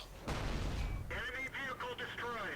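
A tank cannon fires in World of Tanks with a deep, booming blast, followed by metallic ringing and radio-like game effects. A voice is audible over the game sounds.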